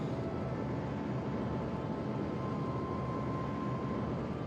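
Steady rocket engine burn in Kerbal Space Program, a continuous broadband roar with a faint thin whine running underneath, even and unbroken throughout.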